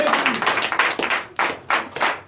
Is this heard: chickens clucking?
no